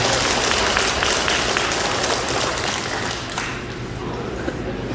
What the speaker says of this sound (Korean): 고생하셨다고 고맙다고 박수 한 번 주시면 어떨까요?